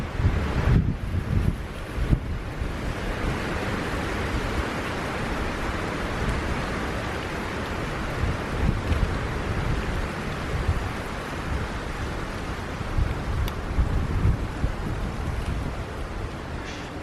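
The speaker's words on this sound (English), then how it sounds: "And here comes the wind." Strong wind gusts across the microphone at an outdoor camp cooking spot with a Firebox Gen 2 stove, a continuous roaring rumble that swells and eases, with a brief knock near the start and no talk.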